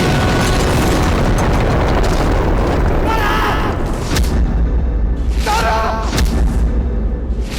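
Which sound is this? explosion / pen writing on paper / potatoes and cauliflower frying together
explosion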